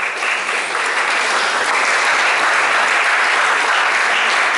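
A crowd at a retreat workshop closing session gives a dense, loud round of applause that holds steady throughout, with no talking over it.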